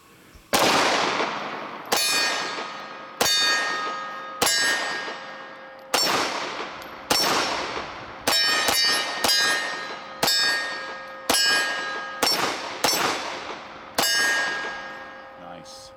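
A CZ-75 B Cold War Commemorative Limited Edition pistol fires about a dozen loud, sharp shots in an uneven rhythm, each crack followed by a ringing metallic decay, at close range.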